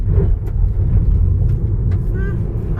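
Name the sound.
Tesla accelerating hard on loose gravel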